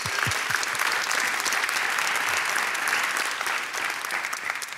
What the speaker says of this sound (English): I hope you'll join me with a round of applause for our first panel